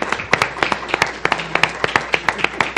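Scattered applause from a small audience thanking a conference panel on intercultural business management, with distinct individual claps at an uneven rhythm, fairly close and sparse.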